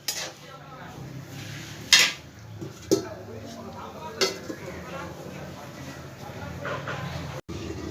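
Metal clinks and clatters of a lid placed on a cooking pot of masoor dal dhoka curry, a few sharp separate knocks over a low background, with a voice talking alongside.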